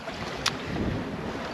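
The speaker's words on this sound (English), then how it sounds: "the wind is back in a very squally way" Gusty, squally wind buffets a sailboat at sea, a steady broadband rush with a brief sharp gust or flap near the start, heard alone without talk.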